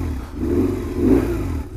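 A BMW R1150R Rockster boxer-twin motorcycle, engine warmed up, idles low and rough then gets two short throttle blips, close and fairly loud, with no talk over it.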